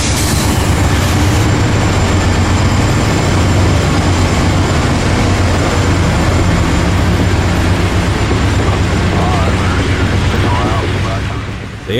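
A CSX freight train hauled by modernized AC4400CW locomotives rumbles past, loud and close, with a constant heavy roar and the rolling clatter of wheels on rail.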